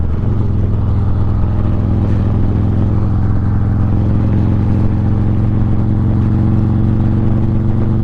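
A car accelerates onto an interstate, its engine a loud, steady drone with a rising tone that builds over about eight seconds with no talking.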